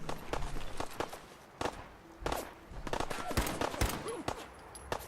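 Gunfire in Fallout 4 comes as scattered sharp shots and short bursts, some close and loud, mixed with footsteps and movement, without talk.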